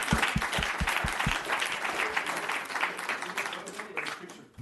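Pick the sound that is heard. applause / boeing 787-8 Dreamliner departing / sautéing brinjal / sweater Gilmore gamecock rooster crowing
applause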